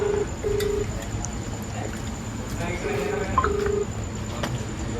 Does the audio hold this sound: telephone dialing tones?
yes